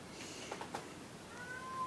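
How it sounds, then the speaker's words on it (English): A cat gives one faint, drawn-out meow in a quiet indoor room, followed by a thin, high whine, heard alone at low volume. "Now the cat's mad."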